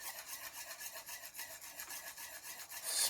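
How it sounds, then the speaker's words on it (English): A whisk works quick grits in a pot on high heat, a steady close rhythmic scraping and rasping that pulses with each stroke and gets slightly louder near the end. "you are whisking as you pour the grits in, and you continue to whisk until they get thick"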